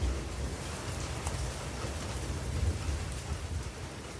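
Heavy rain hisses steadily on surfaces during a thunderstorm, with low thunder rumbling underneath, even and fairly distant, with no voices.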